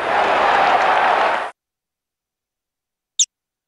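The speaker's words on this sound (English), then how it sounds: "the stadium exploded in thunderous applause and cheers" A burst of crowd applause and cheering fills the first second and a half, then cuts to silence with one brief faint click.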